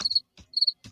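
Crickets chirp as a sound effect in short, bright trilling bursts, two pulsed chirps close and clear with brief gaps of silence.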